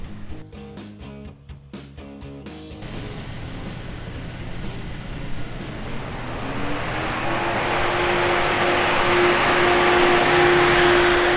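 FM Stage 3 brushless cooling fans spin up to full speed, a steady whooshing roar with a rising motor whine that builds louder and holds, after a few brief clicks at the start.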